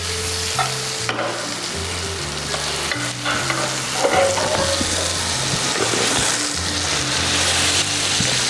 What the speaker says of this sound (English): I'm frying it in butter as well